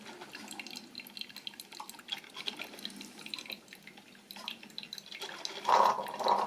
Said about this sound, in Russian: И вот оно капельками будет стекать в этот контейнер.